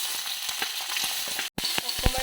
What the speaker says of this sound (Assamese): এয়া ভাজি আছোঁ